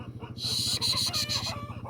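Hens squawking and clucking loudly as wheat grain is scattered for them, a near, agitated burst of cries over a steady low background.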